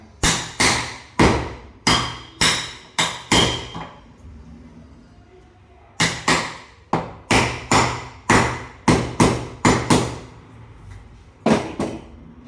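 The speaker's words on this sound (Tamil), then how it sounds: "நான் எப்போவுமே நைலான் ஹேமர் தான் யூஸ் பண்ணுவேன்." A nylon hammer taps borewell pump parts into place in sharp, solid knocks, coming in quick bursts of several strikes separated by short pauses, close and clear.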